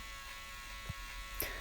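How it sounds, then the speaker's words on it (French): Electric hair clippers, held flipped over to cut shorter, buzzing steadily close by as they trim a fade line on hair, with a soft hum throughout and brief brushing touches. "Je retourne la tondeuse, comme ça elle coupe plus court"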